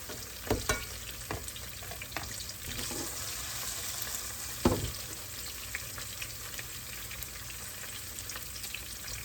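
Frozen okra fries in olive oil with a steady, close sizzle and crackle, broken by a few sharper pops and stirring clicks over about nine seconds, with no talking.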